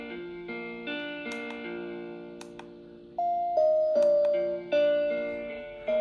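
A small battery-powered baby white noise machine plays a simple electronic melody of sustained tones, stepping between notes, then its timer shifts to a brighter, louder repeating chime pattern.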